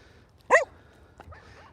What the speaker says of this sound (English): getting a lot of barking today